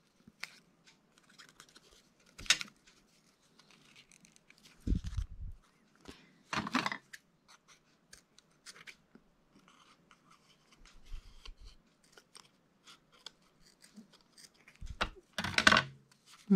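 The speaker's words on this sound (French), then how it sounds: "je fais un double nœud et je viens couper la ficelle qui dépasse" Scissors snip through excess string after a double knot is tied on a paper craft embellishment: a few short, crisp cuts and faint rustles in a quiet room, with a louder clustered snipping near the end.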